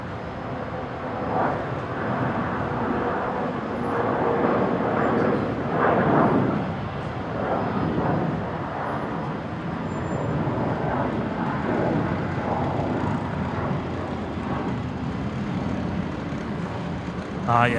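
Jetstar Airbus A320 rolling for takeoff at Brisbane Airport, a steady broadband jet engine roar that holds loud throughout and swells slightly midway.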